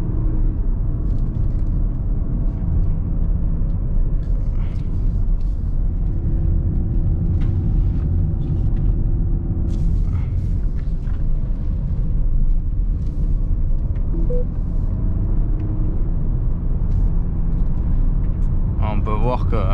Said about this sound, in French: je me suis bien mis en mode séquentiel, les palettes au volant, une route un peu sinueuse